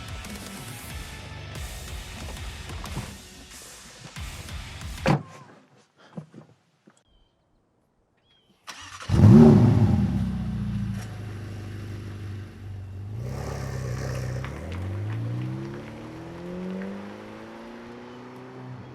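A Ferrari F8 sports car, after some rustling and a door thump, fires up with a loud starter burst and rev, settles into a throaty idle, then pulls away with rising revs through several gear changes.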